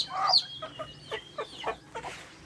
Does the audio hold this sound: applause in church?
no